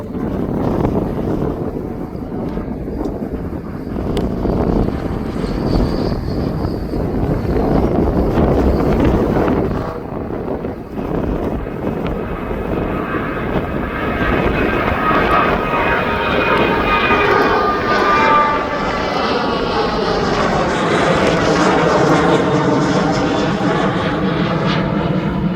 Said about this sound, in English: That Jet 2's now off to Tenerife.